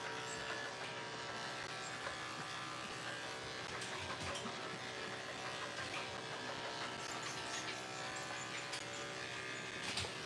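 Electric dog clippers buzz steadily while shaving a doodle's legs at a grooming session, a continuous close mechanical hum with small shifts in pitch as the blade moves, no talk.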